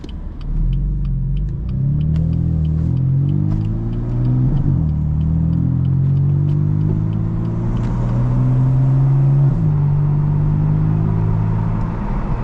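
A BMW F82 M4 in sport mode pulls hard from inside the cabin, its loud engine droning and rising in pitch through gear changes, with a steady undertone of road rumble.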